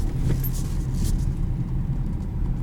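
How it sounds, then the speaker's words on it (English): A 2021 Kia Sportage EX SUV in two-wheel drive mode makes a tight turn, its engine and tyre rumble a steady, close, low drone throughout with no talking. "Two-wheel drive mode, let's go ahead, try out the turning radius"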